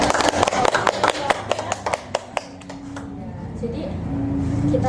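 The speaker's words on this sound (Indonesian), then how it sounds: "tepuk tangan dulu dong buat Semansa" High school students clapping for Semansa at a school event, a burst of loose, sharp claps close by that thins out after a few seconds into a steady background hum.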